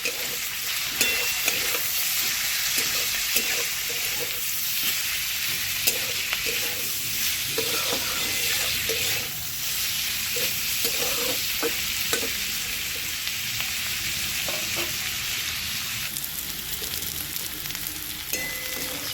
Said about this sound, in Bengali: হলুদ ভালো করে মিশিয়ে ভেজে নেব সিম